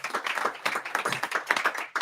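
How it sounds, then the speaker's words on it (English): An audience at a policy launch event gives a steady round of clapping and applause that fills the whole stretch, dense and continuous with no voices over it. "Round of applause."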